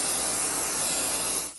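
A continuous hissing spray is aimed at a hotel bed sheet, loud and close for over a second before cutting off abruptly.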